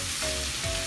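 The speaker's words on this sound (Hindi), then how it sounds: "अब तकरीबन इसी तरह इनको भूनें आप 5 से 6 मिनट।" Okra frying with spices in a pan, a close, continuous hiss of sizzling oil in one brief, steady stretch.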